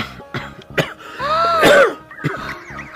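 Several sharp, close coughs in quick succession, mixed with throat clearing, in a Noakhali-set Bangla comedy sketch.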